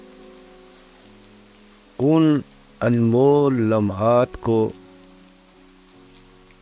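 Steady rain falls as a soft, continuous hiss in the background, while someone speaks in short phrases over it.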